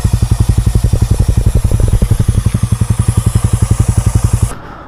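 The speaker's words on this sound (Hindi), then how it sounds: "अब थोड़ा राइट करके देखते हैं कि चेन से नॉइज़ आना बंद हुआ है या नहीं हुआ है" A TVS Ronin motorcycle runs close by, its engine thumping in a fast, even pulse throughout before cutting off abruptly near the end, ridden to check for chain noise after the chain was cleaned and lubed.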